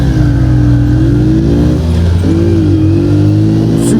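Motorcycle engine in a video game, a loud, steady rumbling drone with harmonic bands that rise and dip as the revs shift, running continuously with no talk.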